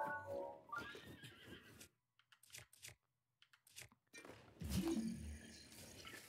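Horses in Zelda: Breath of the Wild, a loud neighing whinny at the start, then quiet snorts and crunching, followed by a burst of louder hoof and movement noise near the end.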